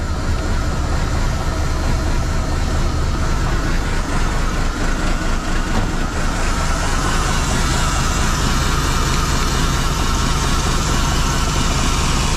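An International Transtar truck engine idling as it warms up, a loud, steady, low diesel rumble that runs unbroken and close by.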